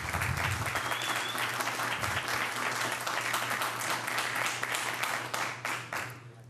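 Applause from the audience at a school district board meeting, a dense, steady clatter of many hands lasting several seconds before thinning out and fading near the end.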